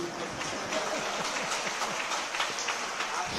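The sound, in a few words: audience applause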